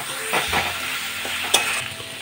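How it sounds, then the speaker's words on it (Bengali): Spiced masala of Kashmiri chilli powder, salt and sugar frying in a pan for a jackfruit seed dish, with close scraping stirs and a steady low sizzle, one sharp clink partway through. "মশলাটা এবার খুব ভালোভাবে কষিয়ে নিচ্ছি।"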